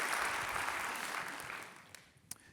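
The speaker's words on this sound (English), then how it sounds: "Let's give them a round of applause" An indoor crowd at a Long Beach civic event applauds Metro staff, a dense round of clapping that gradually fades, leaving a few scattered last claps near the end.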